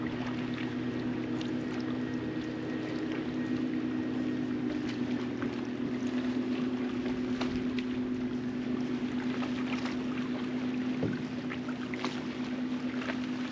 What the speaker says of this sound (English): So it's just rolling waves.